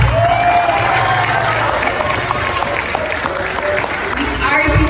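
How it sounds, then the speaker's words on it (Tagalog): Loud crowd applause and cheering rolls on steadily for a Miss Gay pageant contestant at the Mamalakaya Festival 2019, with a voice talking over the din throughout. "Bakit di naman po natin subukang palakpakan at hiyawan ang nag-iisang binibini,"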